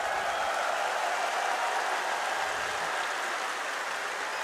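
A large crowd at the PGL Major Kraków 2017 Counter-Strike quarter-final applauds after a Gambit win over Fnatic, a dense, even wash of clapping and cheering held steady throughout at moderate level.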